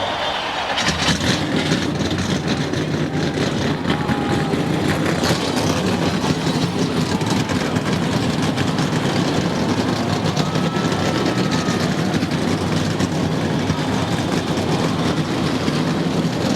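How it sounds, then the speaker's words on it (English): Many NASCAR race car engines fire up and idle together at Atlanta Motor Speedway during the 2002 MBNA America 500, a loud, dense, continuous roar heard steadily throughout with no talk. "Ladies and gentlemen, start your engines."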